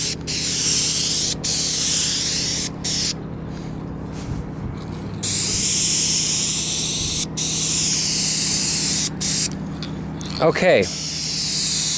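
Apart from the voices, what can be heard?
aerosol spray paint can spraying car paint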